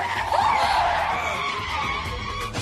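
A car skids toward an oncoming vehicle, a loud sustained tyre screech that stays near and steady for a few seconds with no talk over it.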